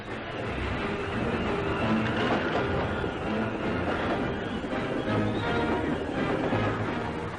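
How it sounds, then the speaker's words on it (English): Loud, steady rumble and clatter of a 1944 army train rolling along the tracks in France, a continuous heavy roar with no pauses. "the fast trains thunder across France"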